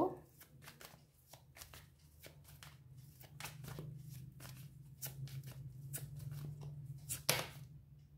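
Tarot cards shuffled by hand, with rapid riffling bursts and soft slaps in an uneven rhythm, close and fairly quiet, over a low steady hum.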